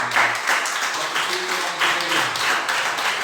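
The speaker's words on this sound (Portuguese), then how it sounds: "E a sua de palmas para Jesus nessa manhã." A church congregation at a morning service claps for Jesus, a dense, even wash of hand claps that pulses in a loose rhythm, with a voice faintly underneath.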